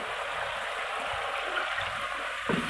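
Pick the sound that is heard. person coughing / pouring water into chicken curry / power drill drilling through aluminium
pouring water into chicken curry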